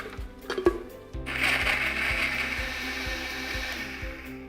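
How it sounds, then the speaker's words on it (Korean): A countertop blender whirs steadily, grinding peanut butter, oil, turmeric and water into a juice. A few clicks and knocks come first, then a sustained, moderately loud motor whine with a rhythmic low thumping underneath. "이렇게 하고 여러분도 이 믹서기로 갈아주시면 돼요"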